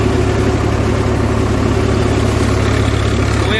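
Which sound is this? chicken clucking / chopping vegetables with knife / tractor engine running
tractor engine running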